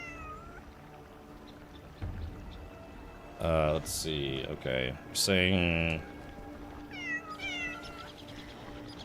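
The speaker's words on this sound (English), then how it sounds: "Oh, kitty cat, now it's not the time to meow a lot." A house cat meows several times in a row, loud and close, with a quiet voice talking briefly before and after the meows.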